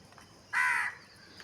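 One crow gives a single loud, harsh caw outdoors, close by and alone, lasting under half a second against faint background noise.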